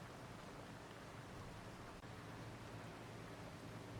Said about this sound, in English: Now, it is still raining